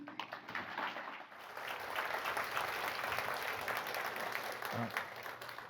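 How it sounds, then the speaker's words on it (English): Audience applause at a technical conference talk, a steady wash of clapping from a crowd held at moderate distance and fairly faint, lasting several seconds without a break. "Please, a round of applause."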